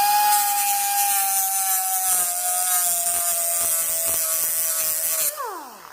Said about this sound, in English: You take your cutoff wheel and you simply cut it or sharpen it at an angle here like this